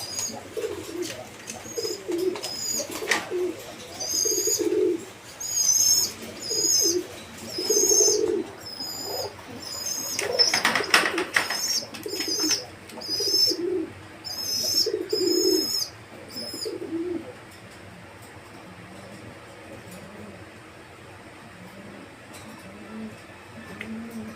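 Pigeons, including racer, Giribaz and Rajgolla hens, coo in a breeding cage with repeated soft throaty calls and some chirps and wing rustles, close and steady for most of the clip before fading to quiet at the end.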